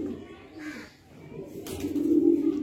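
Andhra Lambadi pigeons give low, throaty coos close by, a short murmuring phrase swelling louder toward the end, with faint background noise.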